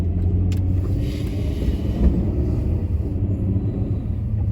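A car drives through Hyde Park in Boston, heard from inside as a steady low road rumble and engine hum, with a few faint clicks and no talking.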